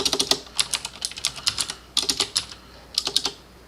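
Quick bursts of typing on a computer keyboard, clustered keystrokes with short pauses between, close and fairly quiet.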